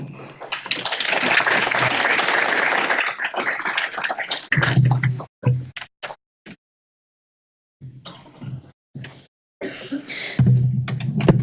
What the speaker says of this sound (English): Can we have one more round of applause for them?